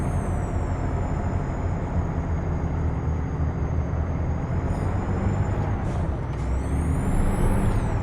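Air brake hiss from a Freightliner Argosy truck in Euro Truck Simulator 2, a loud sustained high whistle over steady engine rumble, dipping briefly then rising again near the end, with no talk.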